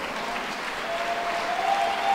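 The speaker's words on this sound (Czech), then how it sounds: "Poprosím velký potlesk pro oba dva naše bojovníky." A crowd at a GCF fight night in Příbram applauds both fighters after the bout, steady continuous clapping filling the venue at moderate volume, with a faint whistle or tone rising near the end.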